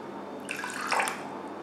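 Water poured from a container into a vessel on a kitchen scale while measuring for a homemade glutathione liquid; a short trickling splash of about a second, close and moderately loud, with no speech.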